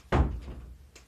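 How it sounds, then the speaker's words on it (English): A door pushed shut indoors, one solid close thunk with a short tail, close and fairly loud, alone without talk. "Close the door."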